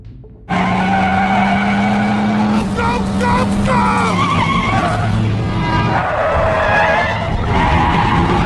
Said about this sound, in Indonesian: mengendarai mobil dalam kecepatan tinggi